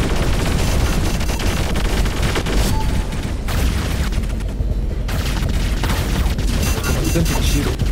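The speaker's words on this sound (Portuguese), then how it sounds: "Tanto tiro." Heavy gunfire in the War Robots PC game, with relentless overlapping shots and booming impacts that stay loud and dense throughout, briefly thinning for a moment near the middle.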